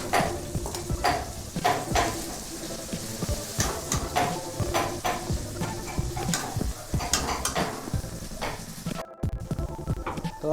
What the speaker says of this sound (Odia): ପିଆଜ, ରସୁଣ, ଅଦାର ପେଷ୍ଟ ମିଶାଇ ଭଲସେ ଆକୁ ମିକ୍ସ କରିଦେଉଛି।